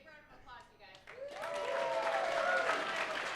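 An audience at a startup pitch night breaks into steady applause. Faint speech over a quiet room comes first, then the clapping swells and stays loud and even through the rest.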